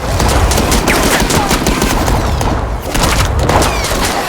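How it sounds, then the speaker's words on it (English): Dense, loud bursts of gunfire crackle continuously, overlapping volleys from several weapons with sharp booming shots throughout. "Suddenly, gunfire rang out, killing one of the soldiers instantly."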